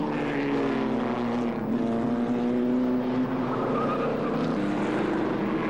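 Post-war racing cars led by a BRM lap Silverstone, their engines a loud, continuous droning roar whose pitch slides gently up and down as the cars pass, with no voices heard.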